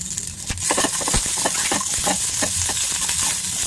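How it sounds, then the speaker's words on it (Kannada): Gooseberries sizzle steadily as they stir-fry in a hot pan for chutney, with scraping stir strokes and light clinks, close up and continuous after a quieter start. "ಇದಕ್ಕೇನೆ ನಲ್ಲಿಕಾಯಿ ಹಾಕೊಂಡ್ಬಿಡಿ."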